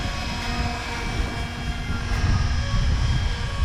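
An SAB Raw 700 RC model helicopter flies with a steady, close rotor and motor drone that stays loud throughout and swells slightly near the end.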